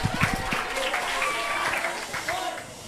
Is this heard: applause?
yes